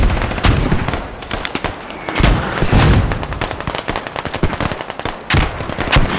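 Mortar salvos hitting targets in the video game Squad, with rapid repeated blasts and crackling impacts, some close and heavy, some distant, in a dense battlefield mix.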